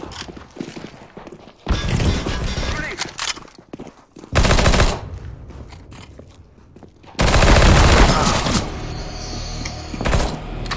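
Automatic gunfire bursts from CSGO, loud rapid fusillades in three long volleys with quieter footsteps and movement between them.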